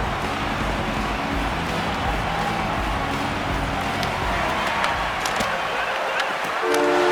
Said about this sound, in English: Final horn sounds, and we are all done with this one.